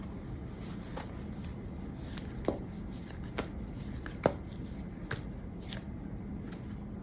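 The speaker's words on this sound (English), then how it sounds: "Now let's shuffle on camera." Tarot cards being shuffled by hand up close, soft riffling with several sharper snaps and taps scattered throughout, no talking.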